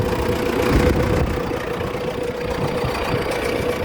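MTZ-89 tractor engine running after repair, a steady close diesel drone with a rough, knocking low rumble that holds constant throughout.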